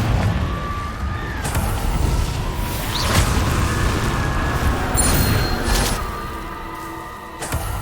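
Spell combat in Hogwarts Legacy: Confringo fire blasts burst amid whooshing casts and rumbling impacts, a continuous stretch of booms and swishes with a few sharper bangs, no voices over it.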